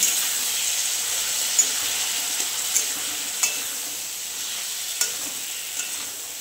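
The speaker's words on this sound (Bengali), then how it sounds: "পোস্ত আর কাঁচা লঙ্কা বাটা দিয়ে একটু আলু আর মশলার সঙ্গে কষে নেব" Poppy seed paste, green chilli paste, potato and spices frying in a pan, giving a steady soft sizzle with a few light stirring scrapes and taps, close and moderately quiet, with no talking.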